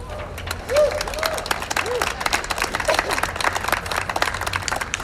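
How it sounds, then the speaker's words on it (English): A crowd at a student protest claps and cheers, brisk, dense applause with scattered whoops, fairly close and loud throughout. "Let's give a big round of applause for y'all."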